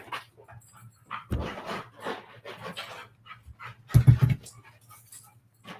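A dog pants steadily and lets out soft whimpers close by, with a few louder bursts, alone without talk.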